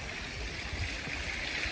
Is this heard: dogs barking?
no